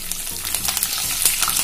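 Dried red chilies sizzle in hot oil for a lemon rice tempering, a brief close crackle of frying with quick spits and pops over a steady hiss.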